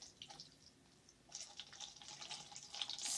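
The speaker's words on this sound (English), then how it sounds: "I'm going to pour the water through my cup and onto my city" Water poured from a pitcher through a cup, raining onto a model city in a sinkhole science demonstration: a soft trickle that swells into a steadier, louder splashing pour after about a second, with no talking.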